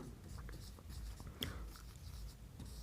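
Handwriting of a single word, the steady scratch of a pen or chalk stroking across a writing surface, soft and continuous with a brief sharper tap midway, no voices.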